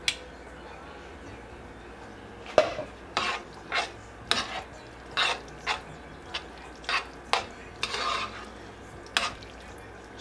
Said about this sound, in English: So we're gonna add a little bit of these noodles in.